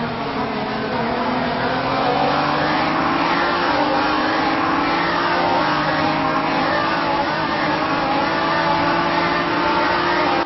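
Race car engines in the sim racing game rFactor 2 during an endurance race at Malaysia's Northern Loop, several cars droning loud and steady with rising pitch sweeps as they accelerate through gears, running continuously without letup.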